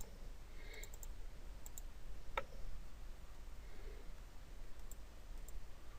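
Computer mouse clicks while selecting colours in reporting software: a few faint, sharp clicks scattered over a low steady hiss, quiet and isolated.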